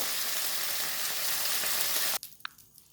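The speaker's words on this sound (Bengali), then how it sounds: "আমার ভাজা বেশ হয়ে গেছে এবার আমি নামিয়ে দেবো" Crab pieces frying in a pan give a loud, steady sizzle for about two seconds, then cut off abruptly, leaving a few faint clinks.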